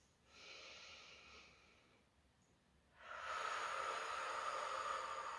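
Deep breathing during a guided relaxation exercise: a soft airy breath is followed by a longer, stronger rushing exhalation, close and steady, with no talking.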